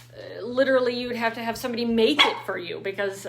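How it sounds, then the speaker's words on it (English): A puppy barks in the background, short yips under a person talking close to the microphone over a low steady hum. "apologies for my puppy barking in the background there"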